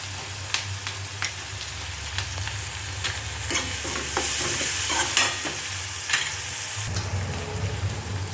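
Tomato and spices stirred and fried in a pan for a Kathiyawadi dish, with a continuous sizzle and irregular spoon clacks and scrapes against the pan, close up, and no talking.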